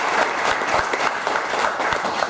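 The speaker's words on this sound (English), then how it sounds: "we should clap after all that, shouldn't we?" Audience applause at an award presentation for an "Unsung Hero" award, steady clapping from a room full of people, loud and continuous throughout with no voices over it.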